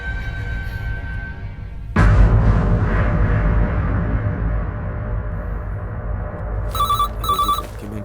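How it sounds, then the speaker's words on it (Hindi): A heavy thud and low rumble are followed near the end by two short bursts of electronic telephone ringing. "सर फोन बज रहा है।"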